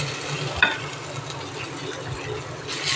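Red pasta sauce thinned with pasta water simmers in a pan, giving a steady low bubbling sizzle throughout with one brief clink near the start.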